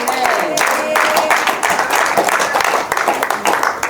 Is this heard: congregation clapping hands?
yes